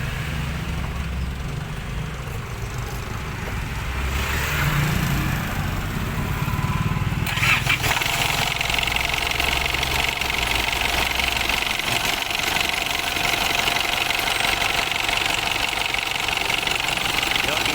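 An Isuzu D-Max diesel pickup engine with a starter motor problem cranks with a slight delay, then settles into a steady, rough idle, a continuous rumbling drone that grows fuller after a few seconds.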